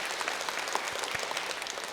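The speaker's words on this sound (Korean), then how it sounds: "부활하신, 승리하신 예수님께 감사와 영광의 박수 올려드릴까요?" Church congregation clapping together during a Sunday service at a Korean Presbyterian church, a dense steady round of applause heard up close with no talk over it.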